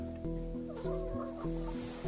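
Hens in a village barn cluck in short, repeated low calls, several birds overlapping at close range with no talk.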